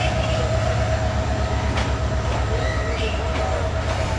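A train rumbles steadily and close at Dhaka Airport railway station in Bangladesh, with a continuous low rolling drone, faint metallic squeal and rhythmic wheel clatter throughout.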